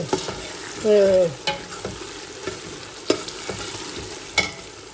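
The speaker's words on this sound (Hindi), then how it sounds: "ये प्याज ब्राउन करके तो मैं इसमें से निकाल लूँगी" Onions browning in oil in a pan for chicken biryani, a steady low frying sizzle with a few stirring scrapes and light clanks, fairly close, no one talking.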